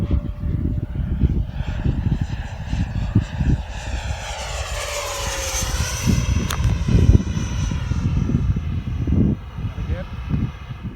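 A Freewing L39 RC model jet makes a downwind pass on a bitterly cold, windy day, its ducted-fan whine rising and sweeping in pitch as it flies by. Wind buffets the microphone throughout, and people talk over it.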